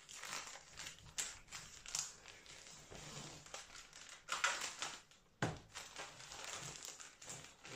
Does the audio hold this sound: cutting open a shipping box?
yes